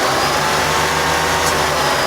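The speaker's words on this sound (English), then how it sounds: "Engine running really rough." A car engine idles roughly with low fuel pressure, a steady loud mechanical drone with an uneven low pulsing throb, no voices.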